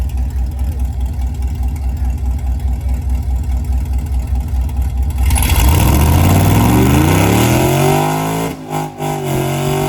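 A truck engine, just after a transmission swap, is pushed hard while testing fourth gear. A steady drone breaks into a loud rising rev that holds, then cuts off sharply near the end.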